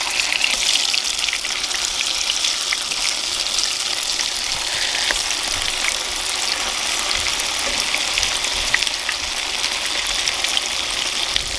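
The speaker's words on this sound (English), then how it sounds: "As long as you have firm tofu, it'll be nice enough to fry it up as it is." Firm tofu frying in oil in a non-stick pan, giving off a steady, bright, hissing sizzle that stays fairly loud and even throughout with no voices.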